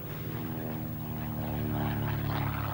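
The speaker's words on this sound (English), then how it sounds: "the 165 horsepower Warner 7-cylinder radial engine, which was its original equipment" A Fairchild Argus four-seat communications aircraft with a 165 horsepower Warner seven-cylinder radial engine in flight at an airshow, giving a steady, loud, throbbing drone.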